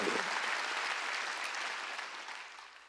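A church congregation applauds steadily for a few seconds during a Sunday sermon, the dense clapping gradually tapering off slightly toward the end.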